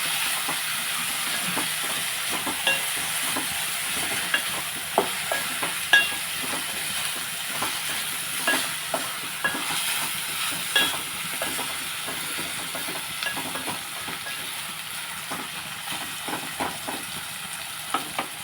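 Mango fish curry cooking in a pan, a soft continuous simmering hiss broken by repeated scraping and clinking of a spoon as it is stirred, with no voices.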